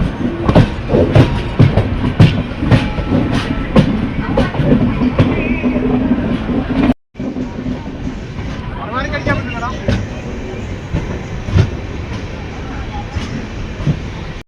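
Superfast sleeper train 22659 from Thiruvananthapuram North running toward Kollam Junction, a steady loud rumble with rhythmic wheel clicks throughout and a brief dropout midway, with voices talking over it.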